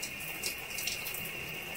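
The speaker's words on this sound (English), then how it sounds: "I'm trying to get every part of my hair wet with the water" Water runs steadily from a tap while hair is being wetted, a constant hissing stream with small splashy fluctuations and no talking.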